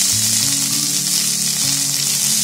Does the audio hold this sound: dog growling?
no